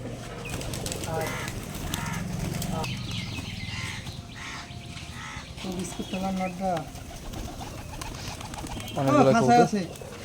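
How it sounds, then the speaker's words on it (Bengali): Jalali pigeons coo in short soft bursts, close by at a pigeon farm, amid faint background murmuring and a louder cluster of calls near the end. "এটা জালালি কবুতর বাজি"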